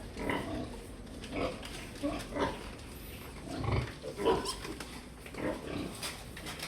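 Piglets on a pig farm, nearly ready to be weaned from a first-parity sow, give soft grunts and squeals at a moderate distance amid scattered farm noise. No one speaks.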